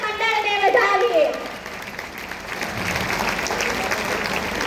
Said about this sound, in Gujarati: હજી એકવાર જોરથી તાળીઓથી આપણે કેરિયાગઢ યુવક મંડળને વધાવીએ